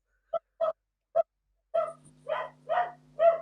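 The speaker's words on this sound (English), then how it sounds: "sorry, my dog's barking" A dog barks in a quick series of sharp, fairly close barks indoors, first three isolated yaps, then four longer, louder barks over a steady low hum, with no talking.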